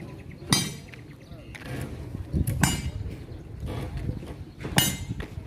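Heavy pounding on a cement floor, with sharp metallic strikes spaced unevenly about every two seconds, close and loud over a rumbling background with voices.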